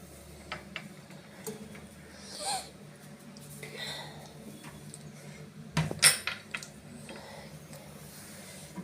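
Dishes and pots clink and clatter in scattered bursts as a kitchen is cleared, with a sharper cluster of knocks near the end, close by and at moderate volume.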